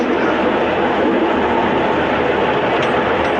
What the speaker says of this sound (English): Can't believe how smooth the engine sounds and operates, and it's quite a smooth track as well.